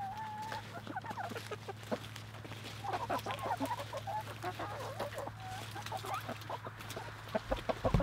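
Backyard chickens cluck and murmur while pecking at invasive water bamboo, soft irregular calls close by over a steady low hum, with a few louder knocks near the end.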